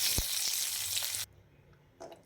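Bangalore brinjal pieces hit hot oil tempered with dried red chillies, curry leaves and turmeric, giving a loud bright sizzle with a few pops that cuts off abruptly, leaving a faint murmur and a small clatter.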